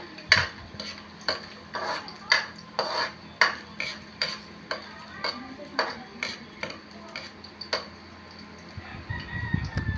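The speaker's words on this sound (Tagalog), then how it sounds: "Tusta-tustahin lang ang bawang." Garlic toasting in a pan for a coconut-milk dish, stirred with a utensil in a regular series of sharp scraping strokes over a faint sizzle, close and fairly quiet, with a louder clatter at the end.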